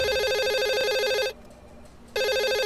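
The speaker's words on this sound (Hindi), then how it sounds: "आपके डेस्क पे फोन बज रहा है" Telephone ringing on an office desk, a loud electronic ringtone that trills for over a second, pauses briefly, then starts again, close and alone with no talk.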